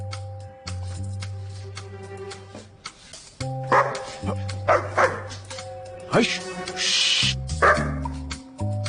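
A dog yips and barks in short bursts over a steady musical background, with someone talking to it between the barks.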